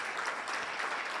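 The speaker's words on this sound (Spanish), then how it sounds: "Le da un aplauso al Señor" A church congregation claps together during a worship service, a brief, even burst of moderately quiet applause with no voices standing out.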